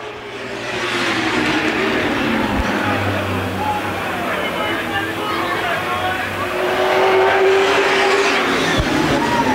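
Late model race cars roar around Winchester Speedway in close racing, engines droning and rising in pitch as they pass, with a commentator talking over the track noise.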